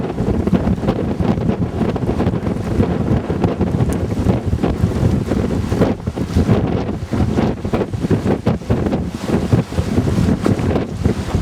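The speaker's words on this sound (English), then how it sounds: "Windy all day today, I got to tell you." Strong wind blows steadily on a sailboat at sea near a small island, roaring and buffeting the microphone continuously and loudly with no talk.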